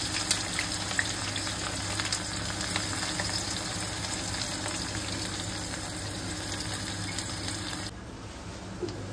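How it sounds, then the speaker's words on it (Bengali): Onions fry with whole garam masala and black pepper in a pan for a mutton dish, giving a continuous, dense sizzle that is close and fairly loud and drops slightly near the end. "ভাইয়া এখন পেঁয়াজ ভাজা হচ্ছে"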